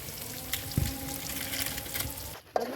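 Snakehead fish pieces frying in hot oil until browned, giving a steady soft sizzle and bubbling throughout with a few brief stirring clatters, close by and fairly quiet.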